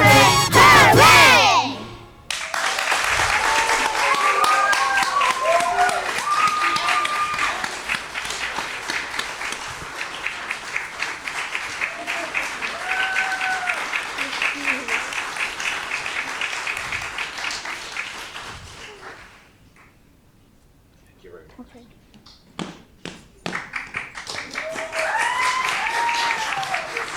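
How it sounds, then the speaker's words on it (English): Sustained applause and cheering from a crowd at a school district governing board meeting for student performers, steady clapping with shouts over about twenty seconds, dipping briefly before picking up again. "Give them another round of applause."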